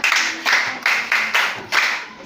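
A class of young children claps for a classmate, six or seven quick bursts of hand claps in a short, uneven rhythm, close and fairly loud.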